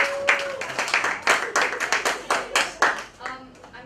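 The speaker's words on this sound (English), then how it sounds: "Let's give Ciel a round of applause" A small audience claps for a presenter, distinct individual hand claps landing in a loose, uneven rhythm, close and fairly loud, with a brief voice at the start.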